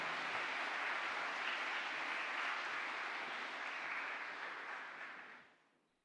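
Applause from the audience at a university graduation ceremony: steady, dense clapping from a large crowd that holds for several seconds, then fades and stops.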